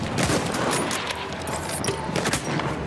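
Enemy gunfire in the World War I shooter Battlefield 1, a dense, continuous volley of shots and crackling fire heard close and loud for the whole stretch.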